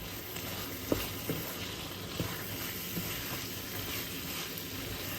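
Chana bhuna, spiced chickpeas, being mixed in a hot pan: a steady broadband sizzle with occasional soft clacks of a spoon stirring against the pan, close up and fairly even in level.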